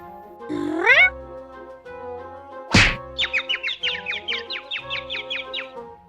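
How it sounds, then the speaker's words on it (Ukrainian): In an animated children's tale, a single loud thwack of a cat landing hard on the ground, followed by a quick run of chirpy, birdlike notes over a faint background hum. "Тому кіт гучно впав на землю."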